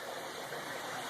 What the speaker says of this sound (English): So the water is going to come up through there.